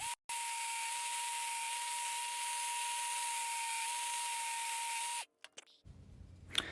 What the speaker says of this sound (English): I'm just going to take my sander really quick, turn it on, and just get these sanded down to just round over that sharp edge just a bit